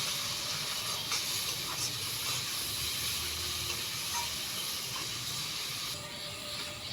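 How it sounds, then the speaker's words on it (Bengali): Spice paste hisses and sizzles steadily in a pan after a splash of water, cooking for a prawn curry with potato and pointed gourd; a continuous close, loud frying hiss with no speech. "সামান্য একটু জল দিয়ে দেব জল দেওয়ার পরে মশলাটাকে ভালোভাবে কষিয়ে নেব"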